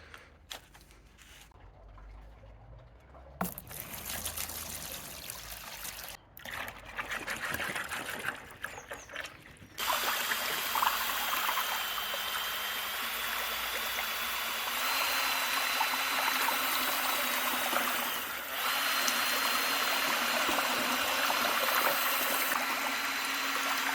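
Thin paint, about ten litres, poured into a black tub: a steady, fairly loud liquid trickle and splash runs continuously for the second half, after quieter handling sounds at the start.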